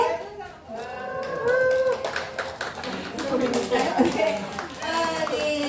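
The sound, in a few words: applause from mothers and children at church service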